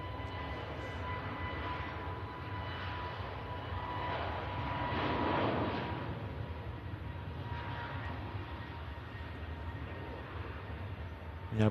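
An EasyJet Airbus A320neo jet airliner taxis on the south side of the airfield, its steady engine whine and low rumble holding at moderate distance and swelling slightly midway before settling.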